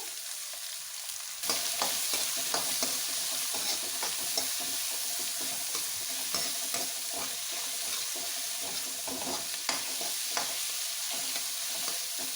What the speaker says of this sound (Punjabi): ਅਦਰਕ ਲਸਣ ਫਰਾਈ ਹੋ ਗਿਆ ਏ ਹੁਣ ਅਸੀਂ ਇਹਦੇ ਵਿੱਚ ਬਰੀਕ ਕੱਟਿਆ ਹੋਇਆ ਪਿਆਜ਼ ਪਾ ਦਾਂਗੇ